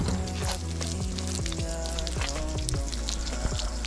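Water from a fountain pours and splashes in a steady, continuous rush, close and fairly loud, with no talking over it.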